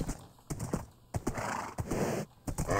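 Horse in the Minecraft video game, a few hollow clip-clop hoof steps followed by whinnying and snorting bursts, moderately close and fairly quiet, with no talk over it.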